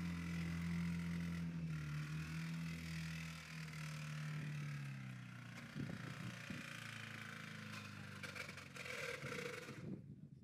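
A car engine run after its oil and coolant were drained labours on, a loud steady drone that drops in pitch midway and then turns rougher and more uneven, ending in a sudden cutoff.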